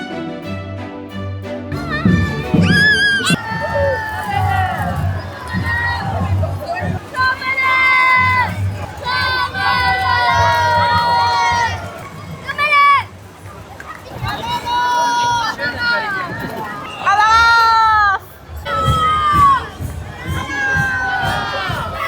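A dense, loud crowd at the Cologne Carnival street celebration cheers and shouts continuously, with many overlapping voices, children's calls and bursts of song-like chanting close around.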